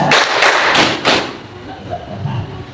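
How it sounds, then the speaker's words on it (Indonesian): A group at a school Eid al-Adha gathering claps four times in a quick even rhythm, close and loud, then faint murmuring and shuffling follow. "Tepuk dua."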